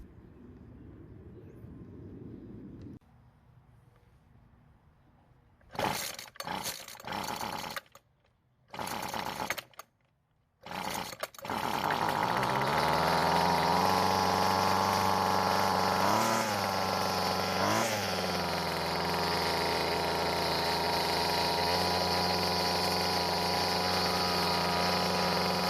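A two-stroke string trimmer engine, just fitted with a repaired primer bulb, sputters through a few short pull-start bursts before catching and running steadily at a high, buzzing idle with slight pitch wobbles.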